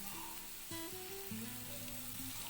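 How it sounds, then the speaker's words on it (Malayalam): Sliced onions and shallots sizzle steadily in hot oil in a pan for a Kerala-style biryani, with a continuous frying hiss and some low tonal hum running underneath. "എണ്ണ നന്നായിട്ട് തിളച്ച് വരുന്നുണ്ട്. അതിനകത്തേക്ക് നമുക്ക് സവോള ഇട്ടു."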